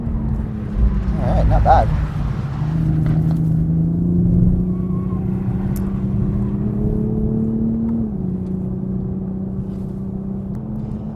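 A 2020 Toyota Supra GR sports car drives on a racetrack, its engine droning loudly and steadily with rising and falling pitch through the corners, while a driver briefly speaks over it.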